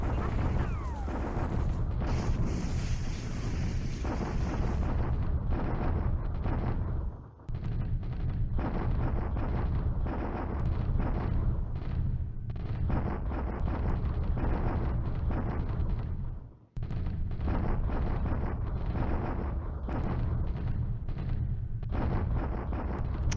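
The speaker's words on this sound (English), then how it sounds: "It's our turn to bombard at Clark." Artillery bombardment in a WWII strategy video game set in the Pacific war of 1942, heard as continuous loud rumbling booms and blasts, dense and sustained with two brief drops, no talk over it.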